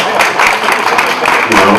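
A close crowd claps steadily at a National Action Network event, a busy patter of many hands that swells and dips across a short burst with no voices over it.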